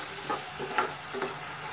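Spices and three green chillies frying in a pan for an ilish fish and pumpkin curry, a soft steady sizzle with a few brief stirring scrapes, fairly quiet and close, no voices.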